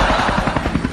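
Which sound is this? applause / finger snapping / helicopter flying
helicopter flying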